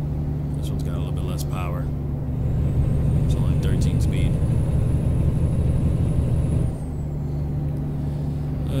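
A less powerful thirteen-speed truck in American Truck Simulator drives with a steady, loud engine drone and a low rumble. A brief hiss is heard near the start, and a faint whine rises and fades in the background.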